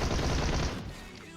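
A dense burst of rapid automatic gunfire in the mobile battle-royale game PUBG Mobile fills the first half-second or so, then tails off into quieter game sound.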